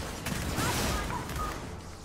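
Gunfire in the Gears of War 4 video game, a brief rattling burst of shots somewhat distant, mixed with game noise and faint voices.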